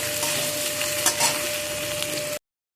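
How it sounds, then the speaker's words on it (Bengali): Potatoes sizzle and crackle steadily in hot oil in a pan as they are stirred, with a couple of light utensil scrapes over the continuous frying hiss. "আলুটা দিয়ে একটু নাড়াচাড়া করে নেব।"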